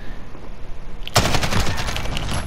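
Rapid AK-47 automatic fire in a multiplayer first-person shooter match, a loud sustained burst that erupts suddenly after a quiet stretch and rattles on closely for over a second.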